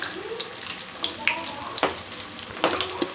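Potato bajji fritters in batter sizzle and crackle in hot oil, with bright popping bursts and occasional louder spits over a steady frying hiss, close by.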